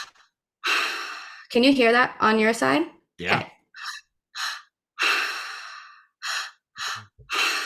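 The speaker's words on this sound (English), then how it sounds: "this is called conscious connected breathing" Breathing in and out through the mouth in a connected, continuous pattern, with loud close breathy inhales and gasping, sighing exhales, interrupted by brief speech.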